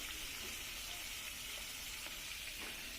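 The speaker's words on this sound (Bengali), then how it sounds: "এই যে এখন মাছ ভেজে নিচ্ছি" Fish frying in a pan gives a continuous, fairly faint hiss and sizzle that holds steady throughout, with no talking.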